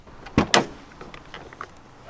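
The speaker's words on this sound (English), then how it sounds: "When I open the doors, it excites people." Two sharp mechanical clunks close together as car doors open, followed by softer rattles and a faint click.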